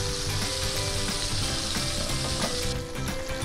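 Basa fish and shrimp fry in oil over low heat, a loud, dense, continuous sizzle and crackle that fills the whole moment, with faint stirring underneath.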